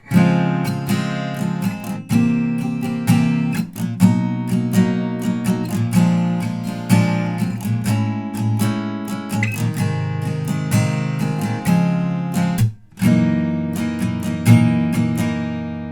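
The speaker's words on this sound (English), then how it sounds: "And altogether, the saxophone break chord progression would sound like this." A guitar strums the saxophone-break chord progression of a song in a steady rhythm, bright plucked chords ringing out close and loud, with a short break near the end.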